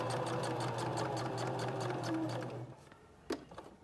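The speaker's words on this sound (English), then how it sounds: "So you're kind of sewing it 3 times." A sewing machine stitches an elastic seam, a steady close mechanical whir with rapid needle pulses that runs for about two and a half seconds and then stops, followed by a brief knock.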